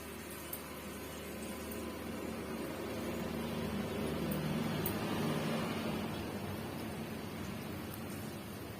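Potato ring snacks sizzle in hot oil, a steady, even crackling hiss that swells slightly midway, close and continuous with no talking.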